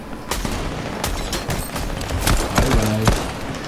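Rapid bursts of gunfire in the video game Fortnite Season 8, sharp repeated shots over a steady game background while players talk excitedly.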